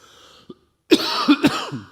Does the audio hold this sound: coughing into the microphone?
yes